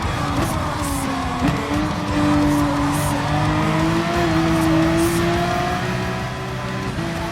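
Race cars lapping a track in Gran Turismo Sport on PS4, with a loud, continuous engine drone whose pitch slowly climbs and shifts as cars accelerate together, and no voices.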